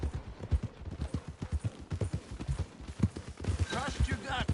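Horse hooves clip-clopping at a steady walk in Red Dead Redemption 2, near and rhythmic, while a voice talks calmly over them.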